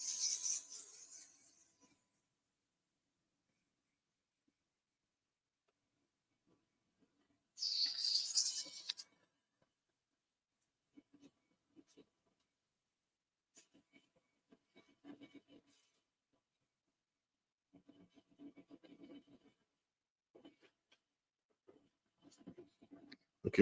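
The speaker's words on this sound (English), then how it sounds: "Then we'll hit it with one piece of sandpaper here" A turned pen with a diamond painting design is sanded with sandpaper, giving two short bursts of close, raspy rubbing, one at the start and one a few seconds later, with faint scattered knocks and rustles in between.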